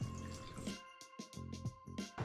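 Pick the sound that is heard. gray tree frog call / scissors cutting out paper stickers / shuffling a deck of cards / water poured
water poured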